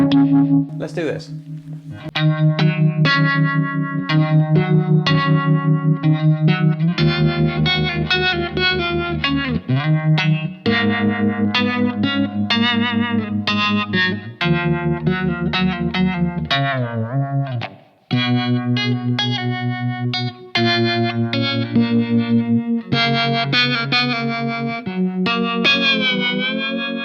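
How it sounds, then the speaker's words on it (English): An electric guitar through a Blackstar AMPED 2 pedal plays sustained chords and notes with a pulsing tremolo effect, steady and loud throughout. "the last little bit of funkiness on it is the good old tremolo"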